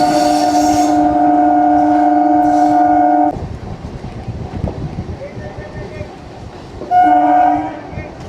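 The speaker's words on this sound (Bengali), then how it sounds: "1:30 বাজতেই আমাদের ট্রেন কিন্তু ছেড়ে দিল কৃষ্ণনগর থেকে" An AC local train pulls out of Krishnanagar station with loud, close horn blasts at the start and again near the end, with a rumbling, rattling roll of the carriages in between.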